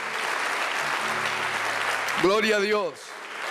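Congregation applause at a church service, a steady clapping wash that runs under a voice shouting praise near the end.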